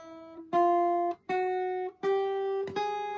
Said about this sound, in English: I'm playing on every single space, all the way up the guitar.